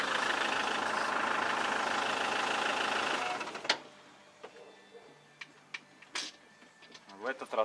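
A Chinese car's engine under repair runs with a busy, rattling idle for a few seconds, then is switched off, leaving sparse clicks and small handling noises in near silence.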